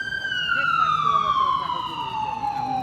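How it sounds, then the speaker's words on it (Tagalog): An ambulance siren wails on a New York street, a loud, near tone sweeping downward in pitch over a few seconds above traffic rumble. "Ambulansya."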